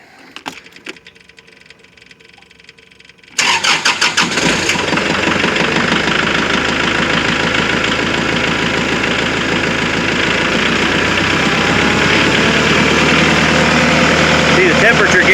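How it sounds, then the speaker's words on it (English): A Kubota MX5200 tractor's diesel engine cranks and fires after a few quiet clicks, then settles into a loud, close, steadily knocking idle that runs on without a break. "So now we're just going to start the tractor up."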